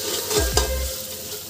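Spices get stirred into chicken biryani frying in a pot: a soft hiss of oil under a couple of scraping spoon sweeps and a low thud, close and moderate, with a final clatter at the end.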